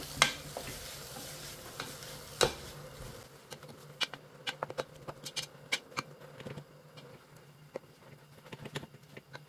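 Seaweed is stir-fried in a pot for pollock seaweed soup, with scattered sizzling crackles and scraping stirs that come close and fairly quiet, growing sparser and more clicky partway through.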